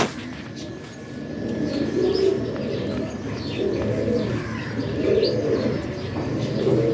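Pigeons in a loft give soft, repeated cooing calls in rolling waves, close by and clear, with occasional light chirps mixed in over a faint background hum.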